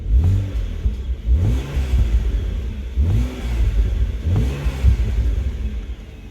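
A 2009 BMW Z4 sDrive35i engine turns over and revs repeatedly, rising and falling in several bursts of throaty roaring, close by with no talking.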